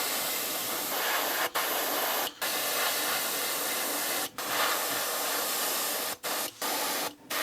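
An airbrush sprays transparent violet paint onto a swimbait lure in steady, close hissing bursts, broken by several short pauses.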